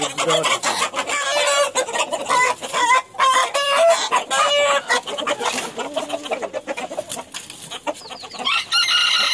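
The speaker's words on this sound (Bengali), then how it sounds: "কলম্বিয়ান বাহামা মুরগি হ্যাঁ এটা এখনো ডিম পারে" Loud, continuous clucking and squawking from several Colombian Brahma chickens close by, with a crow rising among the calls.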